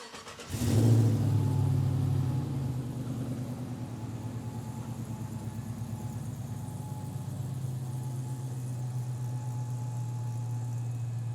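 A 1936 Ford pickup truck resto mod engine cranks and catches, then revs up before settling into a deep, steady, loud idle rumble close by.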